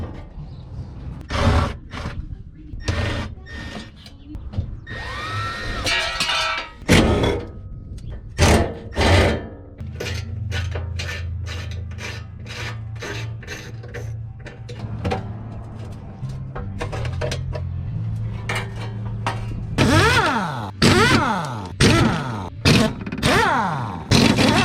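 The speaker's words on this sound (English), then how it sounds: "Now it's time to swap out this fuel tank." Old fuel tank coming out of a BMW E30, with a string of sharp metallic clanks, knocks and scrapes at irregular intervals, some grinding and rattling in between, all close up and without talk.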